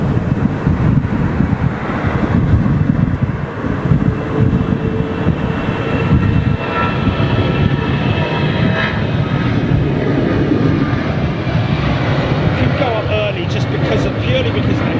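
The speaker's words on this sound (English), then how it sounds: "Little Austrian 320 going out." An Austrian Airlines Airbus A320 takes off at Heathrow into a strong headwind, its jet engines roaring steadily and loudly for the whole stretch, with wind buffeting the microphone and a voice talking over it.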